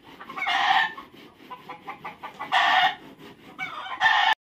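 Chickens cluck busily nearby while roosters crow in loud repeated bursts, three strong crows standing out over the steady farmyard clucking.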